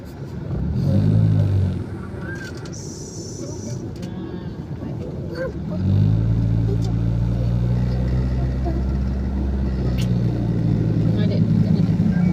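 Evening traffic jam in Kertapati, Palembang: a steady rumble of cars and motorbikes crawling nearby, swelling louder partway through, with people talking over the continuous road noise.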